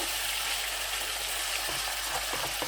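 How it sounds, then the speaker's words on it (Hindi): Beef liver stirred as it fries on a tawa makes a continuous close sizzle with faint scraping and stirring movements running underneath. "अच्छी तरह से कलेजी को हिला लेना खूब, इस तरीके से"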